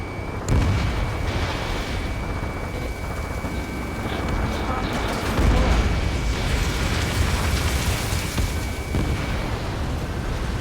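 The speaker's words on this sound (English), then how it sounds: "Mage 2, missile launch." Missile launches and explosions in the combat flight video game Ace Combat 7: Skies Unknown, a sustained loud roar of booms and blasts under radio chatter and music-like tones, with a heavier thump midway.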